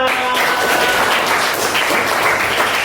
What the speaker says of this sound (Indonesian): Tepuk tangan untuk Nara.